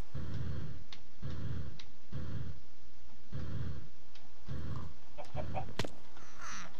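Chickens cluck in the Minecraft modpack FTB Infinity Evolved in Expert Mode Skyblock, giving a run of short, evenly spaced clucks that repeat about once per second at moderate volume, with a few brief higher clicks toward the end.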